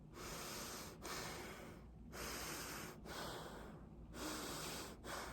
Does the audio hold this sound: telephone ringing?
no